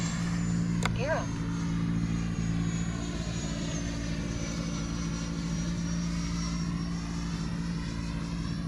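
A model F-18 jet aircraft in flight, a steady loud engine drone with shifting tonal whine that holds throughout, with a brief sharp click near the start.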